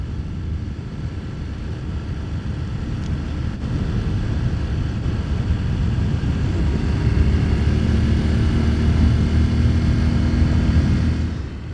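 A Honda Super Cub motorcycle rides along green lanes, its small engine droning steadily and loudly with heavy wind rush over the whole stretch and the pitch rising slightly toward the end.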